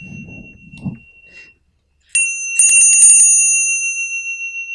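After a few spoken words, a healing bell unlike ordinary brass ones is struck once and rings out clear and bright, its tone sustaining and slowly pulsing as it fades.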